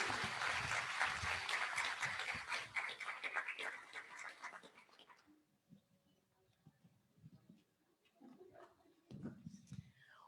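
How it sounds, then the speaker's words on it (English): A hall audience at an International Women's Day celebration at the Kenya School of Government, Nairobi, gives dense applause that fades over about five seconds, followed by a quiet room with faint movement and murmurs. "A round of applause, ladies and gentlemen."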